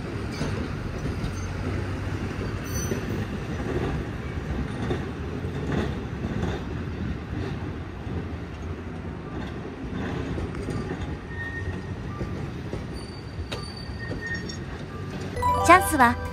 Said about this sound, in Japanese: この交差点を3本の路面電車が同時に通過することがあります